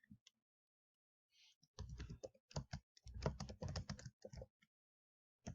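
Typing on a computer keyboard: quiet, close bursts of rapid key clicks in short irregular runs separated by pauses, with no talk.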